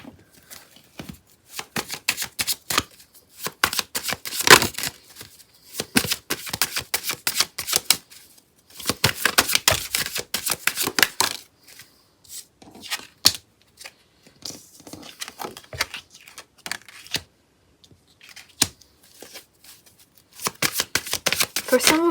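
Tarot or oracle cards being shuffled for a reading, repeated riffling and flicking bursts up close, separated by short pauses.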